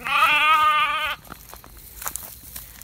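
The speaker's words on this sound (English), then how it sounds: "we're back to the baby lamb. And oh my goodness, you can already hear him." A baby lamb lets out one clear, close, wavering bleat lasting about a second, followed by quiet rustling.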